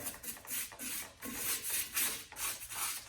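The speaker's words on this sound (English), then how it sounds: "You got yourself an old parts washer brush. You can use a paintbrush too. Parts washer brush is just a little bit more stiff." A stiff parts-washer brush scrubs the rear brake parts of a 2002 Dodge Dakota in quick, rhythmic rasping strokes, close and fairly loud, with short pauses between bursts.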